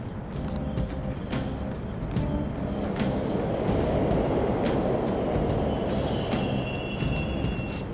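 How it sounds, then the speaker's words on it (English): Subway trains run continuously in a Persona 5 Royal game scene, a steady low rumble with rhythmic clicks like wheels over rail joints, loud and unbroken throughout with no speech. "The trains are totally running!"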